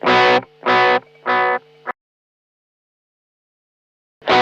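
An electric guitar runs through a Donner Yellow Fall echo pedal with distorted, effected tone. Three loud sustained strums come in quick succession, then a brief tail and near-silence, and one more strum follows at the end.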